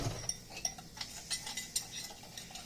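Spoon stirring milk into homemade hot chocolate in a cup, giving a run of light clinks against the cup's sides at a steady, irregular pace, close and fairly quiet with no talking.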